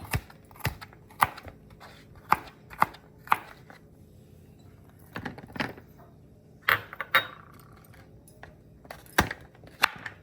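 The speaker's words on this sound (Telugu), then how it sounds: "నేనైతే కొద్దిగా సన్నగా తరుగుతున్నాను." Garlic being finely chopped with a knife on a board, a series of crisp, close knocks in an irregular rhythm with brief pauses between bursts.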